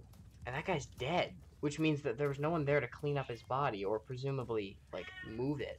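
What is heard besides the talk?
cat meowing in the background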